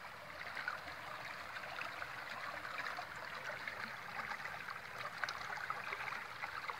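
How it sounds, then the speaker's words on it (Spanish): Steady flowing water from a small stream outlet at Las Dantas in Granados, Baja Verapaz, a continuous rushing trickle heard close and alone with no talk. "sale también la tomita de agua."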